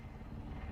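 Helicopter rotor in a video game, a steady low throbbing drone that holds evenly through the whole brief stretch, fairly quiet and heard alone with no talking over it.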